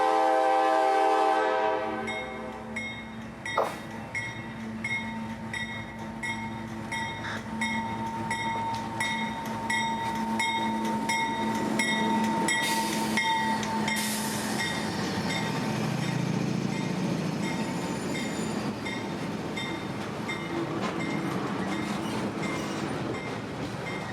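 Freight locomotive 700 approaches slowly after switching near Palmetto, Florida: a loud horn blast opens, then a steady rumbling engine with sustained tones and rolling rail noise builds close by, with no talk.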